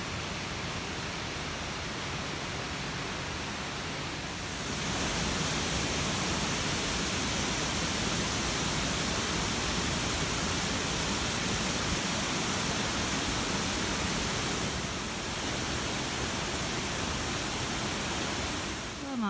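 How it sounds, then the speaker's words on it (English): Burney Falls waterfall roars as a steady broadband rush, louder and closer for most of the stretch before easing slightly near the end. "Now let's go check out the waterfall."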